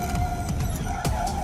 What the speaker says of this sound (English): You hear it just locking the rears.